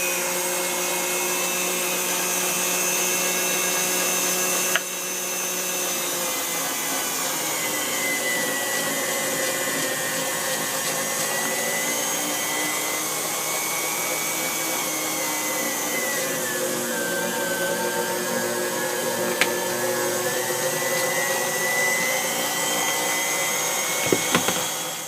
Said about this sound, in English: I'm going to turn on the mixer, and it's going to grind the soap.